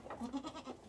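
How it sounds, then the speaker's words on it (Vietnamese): A goat on a family goat farm gives a short, faint bleat, quavering briefly with no voices over it. "Có một con dê đen thui."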